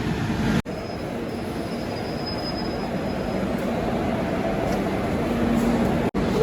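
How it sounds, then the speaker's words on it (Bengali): A train rumbles steadily into a station with a long wheel squeal, loud and continuous, broken by a couple of sharp clanks. "চলে এসছে আমাদের ট্রেন।"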